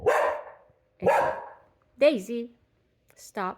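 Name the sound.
dog barking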